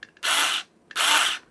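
Electric rechargeable rotary fabric cutter running in two short bursts, a close whirring mechanical buzz that starts and stops sharply with a brief pause between.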